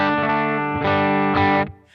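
Electric guitar played dry through a Dream 65 amp set on the edge of breakup, three sustained strummed chords ringing close and clear with harmonic-rich tone, each decaying before the next.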